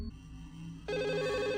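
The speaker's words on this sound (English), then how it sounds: "The phone begins to ring and we see two voicemails." A phone rings in the Chinese folk horror video game Firework, a bright electronic ring starting partway through over a low droning game ambience, loud and steady with no voices.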